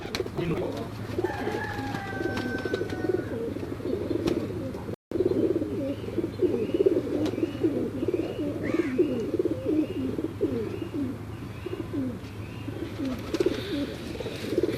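Domestic pigeons, including Ferozpuri birds, coo steadily in a loft, a continuous layered murmur of low rolling calls with a few higher chirps, while people talk nearby.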